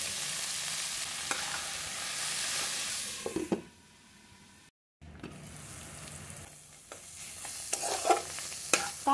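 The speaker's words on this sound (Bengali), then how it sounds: "কাঁকরোলটা আমার ভাজা হয়ে গেছে," Pointed gourd sizzling in a wok with turmeric and salt, stirred with scraping strokes through a continuous frying hiss that briefly drops out midway before resuming close and clear.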